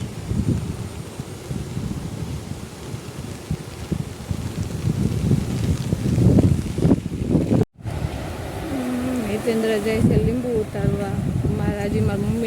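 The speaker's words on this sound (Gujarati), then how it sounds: "હા જો પાણી જાય બે બે કાંઠે નદી જાય" Monsoon-swollen river running bank-full after rain, a broad rushing roar of water with wind buffeting the microphone, continuous and fairly loud, with voices talking over it in the latter part.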